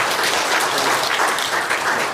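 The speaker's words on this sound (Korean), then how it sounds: "저희가 박수로 뜨겁게 환영하겠습니다" Warm applause at a Korean church Sabbath service, welcoming a guest: dense, continuous clapping from a crowd, loud and close, without a break.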